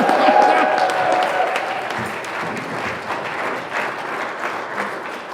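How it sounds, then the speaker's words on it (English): Audience applause in a church service, dense clapping from a crowd filling the room, loud at first and holding steady for several seconds with some faint murmuring underneath. "Give him another round of applause."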